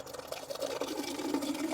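Water pours steadily into a tall 32-inch glass trumpet vase for a table centerpiece, making a continuous, moderately quiet splashing rush with no voices.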